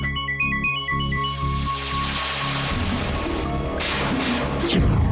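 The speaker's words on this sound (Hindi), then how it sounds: "तुम्हारा फोन बज रहा है" A repeating electronic ringtone melody plays in short bursts, then gives way to a loud, dense burst of musical sound and crashing effects.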